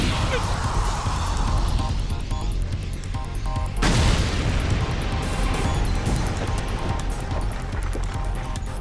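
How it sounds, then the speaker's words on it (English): A deafening explosion effect from an anime-style story: dense, loud, roaring noise with a sharp burst near the middle that rumbles on, filling the whole clip. "After the deafening explosion,"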